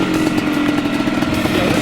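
A vintage racing motorcycle engine runs with a steady, buzzing mid-pitched drone and rapid firing pulses, close and fairly loud, without speech.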